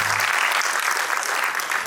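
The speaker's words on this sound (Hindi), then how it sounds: "जोरदार तालियों से स्वागत हो।" Dense, loud applause from an audience welcoming a speaker at a community gathering, a continuous burst of clapping close and bright for about two seconds.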